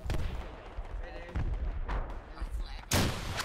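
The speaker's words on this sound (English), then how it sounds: "Reckon I can at least shoot the tank once." A tank cannon booms in the military game Project Reality, a few heavy deep blasts with one sharp loud shot near the end, over rumbling battle noise and a speaking voice.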